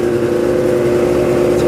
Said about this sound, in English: For those of you who are in the snowmobiles, they're supposed to idle kind of high like this.